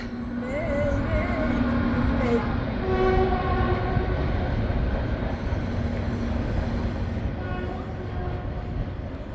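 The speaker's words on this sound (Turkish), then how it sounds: "Evet, bir tren daha geliyor değerli dostlar." Train rumbling past at close range in Adana, a loud, continuous roar of wheels and carriages with a horn-like tonal note early on, the heavy noise holding steady to the end.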